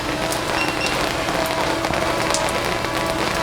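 Heavy rain pounding steadily on a roof, a dense, loud, continuous hiss and patter with occasional sharper drops, no pauses throughout.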